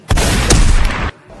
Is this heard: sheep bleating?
no